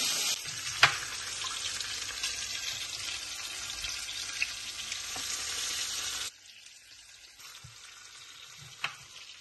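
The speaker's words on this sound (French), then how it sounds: "On va griller un peu nos piments là." Chili peppers grilling in a hot pan give a steady close sizzle for about six seconds, then quieter spitting with occasional sharp pops and clatters.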